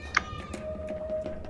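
A short, high meow rings out near the start, faint and somewhat distant, followed by a quiet hum and soft thuds, in the horror game Garry's Mod set in a bunker.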